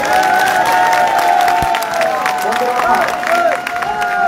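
Crowd at a political rally breaks into sustained applause and cheering, with voices and clapping blending into a dense, loud wash throughout.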